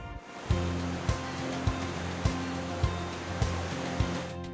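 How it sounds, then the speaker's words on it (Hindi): A high waterfall's falling water rushes in a steady, full hiss, with a rhythmic thumping musical beat running through it. "नीचे गिरने की वजह से जो पानी की आवाज़ सुनाई देती है वो सुनने लायक होती है"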